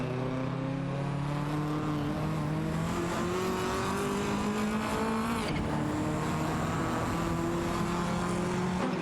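Race cars, a TVR Tuscan and a Ford Sierra RS500, roar continuously in a racing game, engines whining steadily as they shift up through the gears with a loud, sustained engine drone.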